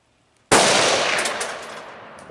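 A loud, close explosive boom from a shot at a Tannerite target that misses, with a sharp onset and a long rumbling decay over about two seconds, outdoors with no talking.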